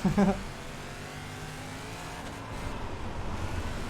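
A dirt limited late model race car in iRacing drones along with a steady engine hum, rising slightly toward the end, while a voice speaks briefly at the very start.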